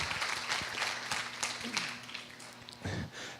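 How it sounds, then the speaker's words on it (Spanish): A church congregation applauds during a sermon, a brief patter of scattered clapping at moderate distance, fairly quiet and mixed with crowd murmur. "Dale un aplauso a Dios"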